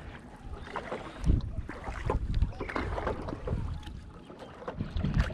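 A kayak is paddled across a reservoir into a cove, with rhythmic water swishes and splashes from the strokes, mixed with wind buffeting the microphone.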